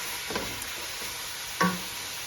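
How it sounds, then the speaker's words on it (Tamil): Prawns with salt sautéing in a pan for prawn biryani, a soft continuous sizzle with two brief stirring scrapes, close and fairly quiet, no voices. "இப்போ இறால் வந்து வதங்கிடுது."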